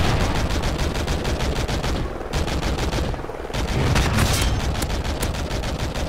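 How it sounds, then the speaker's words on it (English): Rapid automatic gunfire from a teammate in Call of Duty, a steady stream of close, loud shots with a couple of brief pauses, dense and unbroken otherwise. "Why is my own teammate shooting at my team?"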